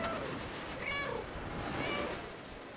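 A cat in the video game Stray gives a couple of short, soft meows, faint and mixed into a hissy background with no clear speech.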